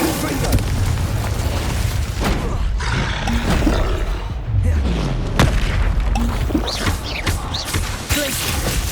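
Fiery explosive spell blasts boom and roar in Hogwarts Legacy combat, loud bursts layered over constant game action and rumble, with character voices calling out during the fight.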